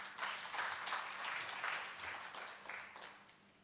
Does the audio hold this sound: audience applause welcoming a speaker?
yes